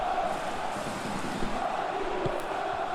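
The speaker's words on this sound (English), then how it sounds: "Well, the crowd clearly like what they just saw." A crowd cheering in a football video game, a broad steady roar of stadium voices with a murmuring swell, loud and continuous throughout.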